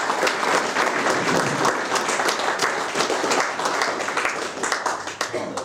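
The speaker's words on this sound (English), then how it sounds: "We'll give Father Dean another round of applause." An audience at a Knights of the Southern Cross talk event claps for the speaker, a dense, sustained round of applause at close range that runs unbroken and starts to thin out at the end.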